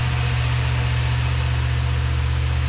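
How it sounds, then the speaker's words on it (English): A classic car engine runs steadily after ignition work and dwell adjustment, a constant low hum with no change in pitch or rhythm and no voices. "We got the car running good enough now"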